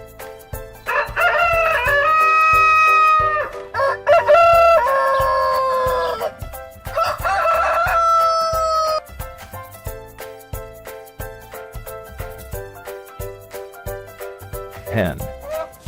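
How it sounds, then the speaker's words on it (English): Rooster crowing: loud, drawn-out calls repeated several times over steady background music, followed by a short final call near the end. "Rooster."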